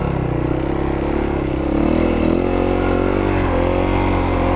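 A motorcycle engine drones loud and close while the rider holds a wheelie, its pitch rising slightly partway through as speed builds, a steady mechanical roar with no voices.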